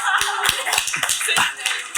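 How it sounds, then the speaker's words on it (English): A crowd claps in a brief, dense patter of applause, steady and fairly loud throughout. "we'll give you a round of applause."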